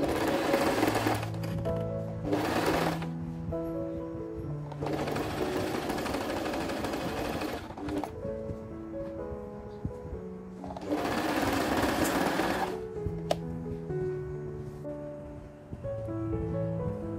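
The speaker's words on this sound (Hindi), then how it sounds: "अब इन दोनों जगहों पर हमने सिलाई कर लेनी है।" A sewing machine stitches an under-scarf hijab cap in three separate bursts of rapid mechanical whirring, with quieter handling sounds between runs.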